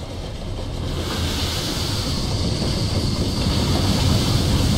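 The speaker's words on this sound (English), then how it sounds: "Nothing like a train to clear the train track that was of snow." Train passing over snowy, icy tracks in the World War II strategy game Company of Heroes 2, heard as a steady, loud rumbling roar with hissing noise that builds slightly over several seconds, without speech.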